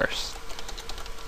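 Rapid keystrokes on a computer keyboard, a brief burst of light, close clicking taps following a short sound at the start.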